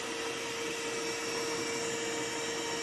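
A vacuum cleaner used to remove bees from a column runs with a steady, loud whine and hiss that never lets up, with a high tonal hum riding over the broadband roar.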